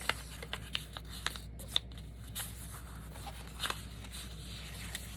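Paper being folded and creased in a journal, a series of short crisp rustles and taps, close and fairly quiet with brief pauses between.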